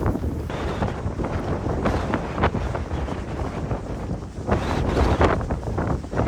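Strong wind buffets the microphone throughout on a Cairngorms hike at around 400 meters, a steady low roar with gusty surges and no voices.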